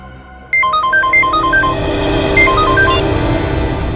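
An outgoing phone call ringing, heard as a loud electronic ringtone of quick melodic beeps that repeats its phrase over a low, steady rumble, with no talking.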